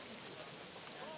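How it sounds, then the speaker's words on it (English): Steady hiss of rain falling in the video game Kingdom Come 2, a dense broadband wash that fills the short clip at a constant level. "Oh, don't mind the rain."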